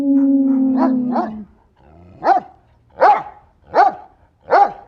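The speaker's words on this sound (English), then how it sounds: "they sound like small dogs, but at least there's a few of them" Small dogs bark in a quick cluster, then give four evenly spaced sharp barks, close and fairly loud, with nothing else around them.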